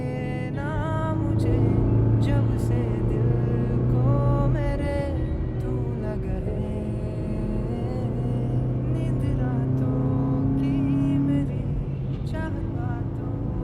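A car speeds along a road at night with the radio on, its steady engine drone and rushing tyre noise holding fairly loud and close throughout, with faint speech or radio voices mixed in.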